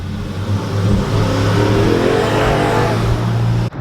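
A GMC Sierra pickup truck with a newly installed exhaust revs steadily and loudly up close, a deep rumbling engine drone holding for several seconds before cutting off abruptly near the end.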